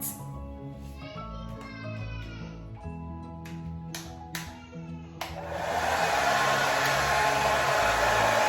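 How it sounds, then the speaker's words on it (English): About halfway through, a hair dryer on low heat comes on to blow-dry 4c natural hair. It gives a loud, steady airy roar up close that follows some brief tonal sounds at the start. "just to blow dry it a little bit"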